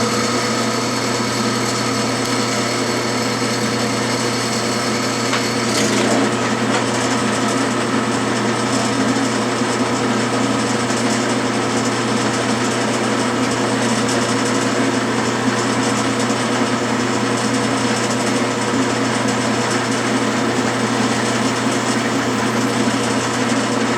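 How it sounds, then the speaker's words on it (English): A metal lathe runs slowly while machining parts for a Stuart steam engine, giving a steady, continuous mechanical hum and whine that stays even throughout, with a slight change in tone partway through and no talking. "I'm running the lathe much slower than what is necessary, but also to minimize vibration."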